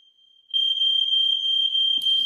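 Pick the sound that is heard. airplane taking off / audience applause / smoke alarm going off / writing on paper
smoke alarm going off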